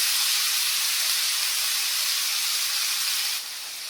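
Gourd stems hit a hot pan of oil with whole five-spice seeds and chillies, giving a loud, steady hiss of frying that holds evenly for several seconds before easing slightly.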